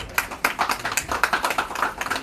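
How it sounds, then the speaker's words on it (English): Audience applause at a glamorous design magazine launch evening, a dense run of close, crisp hand claps from a modest crowd, steady and unbroken throughout. "Ladies and gentlemen, huge round of applause"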